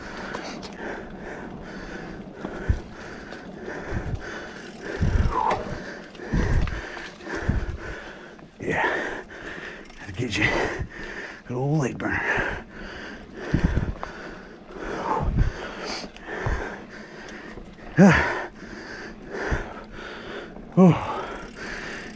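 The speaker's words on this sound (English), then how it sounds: "Sorry for that heavy breathe." Heavy, rapid breathing with gasps and sniffs from a mountain biker after a hard climb on a wooded trail loop at Potato Creek State Park, close and steady throughout, with faint rustling and footsteps under it.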